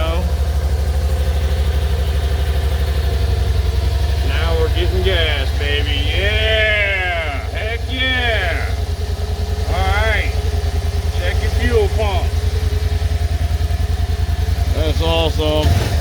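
A 2013 Kawasaki Teryx 4 750 UTV idling after a fuel pump fix, a loud, steady low engine drone running throughout while people talk over it.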